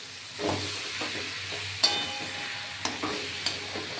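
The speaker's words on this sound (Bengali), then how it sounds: "এখন এটা কষানো হবে" Squash curry sautés in a pan with ghee and spices, a low continuous sizzle and hiss, broken now and then by a few sharp clinks of a spoon against the pan.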